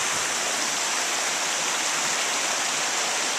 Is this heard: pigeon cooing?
no